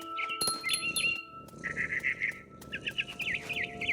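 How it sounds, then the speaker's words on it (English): A mother bird in the video game What Remains of Edith Finch chirps in bright, repeated trills with a faint flutter of wings, close and fairly quiet, with no talk. "All I cared about was eating that mama bird."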